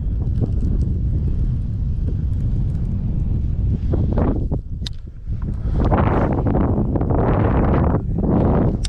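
Strong wind buffets the microphone at a fishing pond, a continuous low roar that swells and dips in gusts throughout, with no other clear sound on top.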